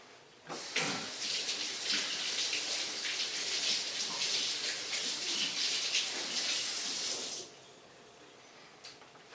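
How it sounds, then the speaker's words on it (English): Hands are rinsed under a running kitchen tap: a steady, close rush of water that starts abruptly, flows for about seven seconds and then cuts off, with no talking. "Let me rinse my hands."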